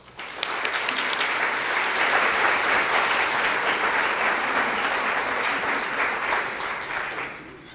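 An audience applauds steadily to welcome Sally to the stage at a design event, a dense wash of clapping from a sizable crowd that starts abruptly and holds for several seconds, with no voices over it.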